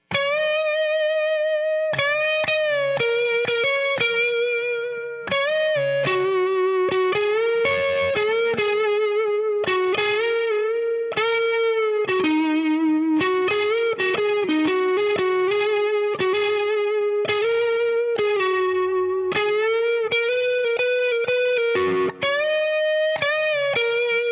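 Distorted electric guitar playing lead licks in a rapid string, bends and sustained notes back to back, loud and continuous with no talking.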